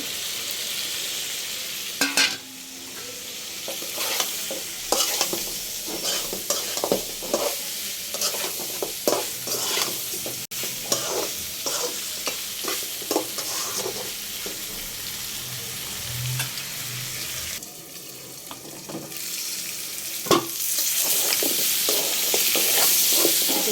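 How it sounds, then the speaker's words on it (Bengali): Chicken pieces and potatoes added to cooked-down spiced masala in a pan for a spicy chicken bhuna, sizzling while a spoon scrapes and stirs in repeated close strokes, no talking. "এখন আমি মুরগিটা দিয়ে দিব। মুরগি আলু আমি একসাথেই দিব"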